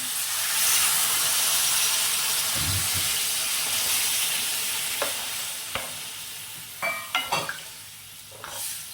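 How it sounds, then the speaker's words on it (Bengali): About a bowl of water poured into a pan of frying pointed gourd and prawns, setting off a loud, steady hiss and sizzle up close, then fading as a few sharp clinks of a utensil against the pan follow. "এবার এর মধ্যে জলটা দিয়ে দিচ্ছি।"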